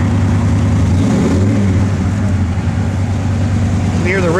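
A 1967 Chevrolet Chevelle SS V8 engine idles steadily and close by with a low rumble, then briefly rises in a short rev near the end, with a voice speaking over it.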